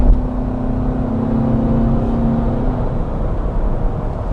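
A 2008 Chevrolet Tahoe Hybrid accelerates at full throttle onto an interstate, heard from inside as a steady, loud engine drone with a rising tonal whine that fades out partway through.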